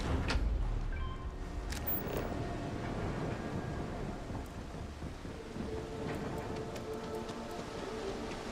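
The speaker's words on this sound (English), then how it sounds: "Be nice if it would stop raining." Steady rainfall in the video game Starfield, a dense even patter with a low rumble at the start and a few scattered drips and ticks throughout.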